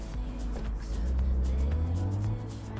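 A car drives in the business sim game Big Ambitions, a low engine hum rising in pitch as it speeds up, with faint clicks layered on top.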